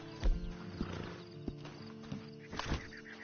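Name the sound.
horse in video game Red Dead Online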